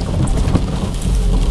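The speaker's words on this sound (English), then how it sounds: "It's still raining." Steady, dense rain falls continuously during a wet-weather test drive of a car, a loud even hiss with a low rumbling undertone and no voices.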